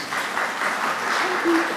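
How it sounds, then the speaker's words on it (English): An audience at a software pitch event claps in a short, even burst of applause, steady and fairly close, without voices standing out. "Have a big round of applause for Karen."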